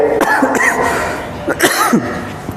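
A few short, harsh coughs burst out in quick succession from a speaker at a religious lecture, amid a noisy indoor crowd, close and fairly loud.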